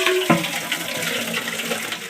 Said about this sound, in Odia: ଆଉ ପାଣି ତ ଛାଡ଼ିଛି ହେଇ ଅଳ୍ପ ଅଳ୍ପ ପାଣି ବାହାରୁଛି